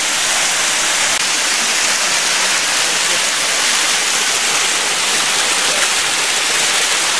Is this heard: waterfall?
yes